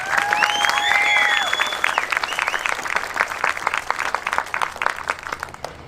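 At a Westgate Community School graduation ceremony, an audience applauds the graduates with loud, dense clapping. A few voices whoop and cheer over it early on, and the applause fades slightly toward the end.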